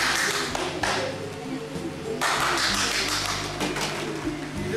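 An audience claps hands together in bursts of rhythmic tapping, a dense patter of many hands that pauses and resumes, with faint voices in the background.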